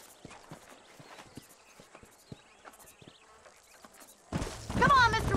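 Horse hooves clip-clop in Red Dead Redemption near Armadillo, a soft, irregular patter of steps under faint ambient sound before a loud burst of noise and voices takes over near the end.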